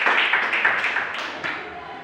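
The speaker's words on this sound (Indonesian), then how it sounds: "Berikan tepuk tangan." A classroom of primary school children clapping for a classmate after a song, a burst of brisk hand claps that starts strong and gradually thins and fades over two seconds.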